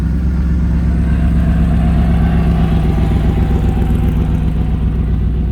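A car rolls into a car show with its engine idling in a loud, steady, throaty rumble that lasts throughout, close by and with no one talking.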